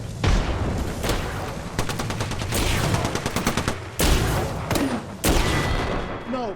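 Rapid bursts of Triple Take rifle and other weapon gunfire in the battle royale game Apex Legends, loud and dense, with repeated sharp shot volleys, a few brief pauses and explosive hits throughout.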